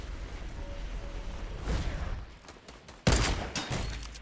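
Gunfire in the Fortnite battle royale game, a low rumbling barrage building in the middle, then a sudden loud burst of shots near the end that rings out and decays.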